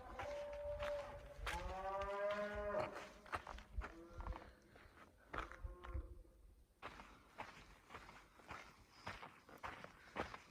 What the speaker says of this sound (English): cows hidden in the bushes were mooing and moaning.